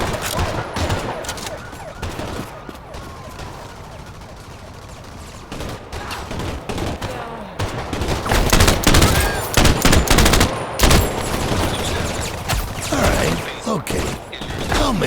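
Bursts of automatic and single gunfire ring out loud and close in the crime shooter game Crime Boss Rockay City, thinner early on, then denser heavy volleys with clattering mechanical sounds, with a little talk mixed in.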